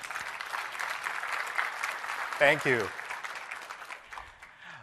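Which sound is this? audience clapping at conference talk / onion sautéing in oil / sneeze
audience clapping at conference talk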